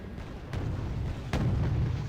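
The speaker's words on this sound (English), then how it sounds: "Still have artillery coming in, trying to hit that Abrams and that infantry." Artillery fire in the Wargame: Red Dragon strategy game, with two dull booms rumbling over a low, steady battlefield drone, fairly distant and muffled.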